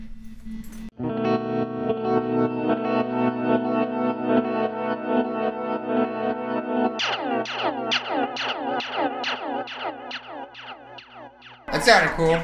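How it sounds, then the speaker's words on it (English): Electric guitar through a delay pedal with modulation effects: a long sustained strummed chord, then a series of rhythmic repeating picked notes with echoing tails, fairly close, ending with a sudden loud burst. "Maybe we can hit some delay and get some of those sounds happening"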